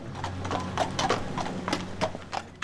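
Horses' hooves clip-clop on a road at a funeral procession, a steady walking rhythm of sharp knocks, fairly close and with no voices over it.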